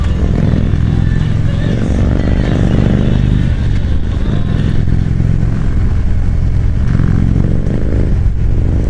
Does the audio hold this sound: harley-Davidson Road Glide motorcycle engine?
yes